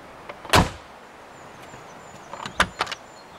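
The heavy, solid door of a Mercedes-Benz G-Class G350 shuts with one loud, close thud, followed a couple of seconds later by a few lighter latch clicks and knocks.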